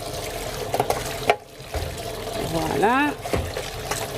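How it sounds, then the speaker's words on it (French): Cold tap water runs and splashes over meat being rinsed for a Haitian Creole dish, a trickling pour that swells near the end, with a person talking briefly over it. "On va laver la viande avec de l'eau froide."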